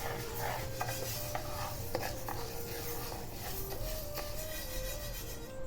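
Mung beans dry-roasted golden over low heat in a pan, stirred with a steady rasping scrape that continues nonstop over faint background tones.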